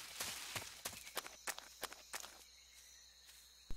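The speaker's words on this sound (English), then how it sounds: "Notice that the guard turns at Snake's footsteps." Snake's footsteps in Metal Gear Solid 3, about eight faint, evenly spaced steps on soft ground over quiet game ambience, with a small click at the end.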